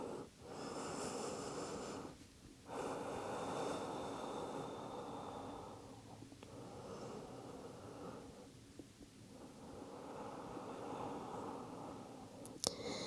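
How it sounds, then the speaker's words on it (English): Slow, deep breaths during a stress-relief yoga class, long drawn inhales and exhales rising and falling in a steady rhythm with short pauses between, close and fairly soft with no talking. "Take another inhale and exhale."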